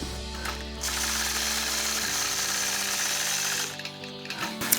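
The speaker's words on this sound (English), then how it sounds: "So I'll quilt that first curve point to point line" A sewing machine runs in a fast, steady mechanical hum while quilting a curved line with Sway 3 and Sway 5 rulers, loud and close, easing off briefly near the end with no talking.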